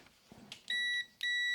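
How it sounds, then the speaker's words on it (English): Multimeter continuity buzzer testing a Honda Transalp motorcycle brake switch: two clear, loud steady electronic beeps, each about a third of a second, separated by a short gap, after faint handling clicks. "You take a multimeter and you put it on this buzzer."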